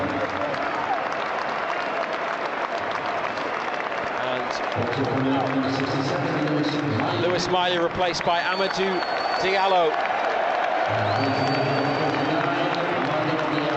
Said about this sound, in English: Big cheer for Miley and Diallo